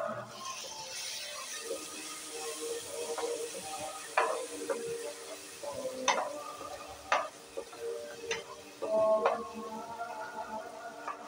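Whole spices sizzle steadily in a hot pan before tomato and ginger paste goes in, a soft continuous frying hiss broken by several sharp clicks and taps of a spoon or utensil against the pan.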